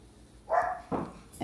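A dog barks indoors: two or three short, muffled barks at moderate distance, fairly faint, with no talk over them.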